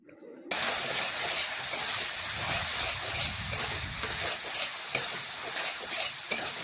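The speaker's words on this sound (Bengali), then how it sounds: "এইভাবে নাড়াচাড়া করে বেশ কিছুক্ষণ মশলা আমি কষিয়ে নিচ্ছি" Spice paste with onions and Kashmiri chilli powder being stirred in a hot pan for a prawn curry, a continuous close sizzle with scraping spatula strokes, no talking.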